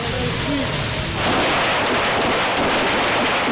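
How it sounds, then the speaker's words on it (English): Pistol gunfire from an M9 Beretta on a Navy boot camp firing range arrives as dense, loud, overlapping reports that fill the whole stretch, with no individual shots standing apart. "Recruits trained to safely fire the M9 Beretta pistol"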